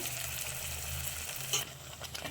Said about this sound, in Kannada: ಅದು ಸ್ವಲ್ಪ ಫ್ರೈ ಆಗಲಿ ನೋಡಿ ರುಬ್ಬಿರೋ ಮಸಾಲ ಹಾಕ್ತಾ ಇದ್ದೀನಿ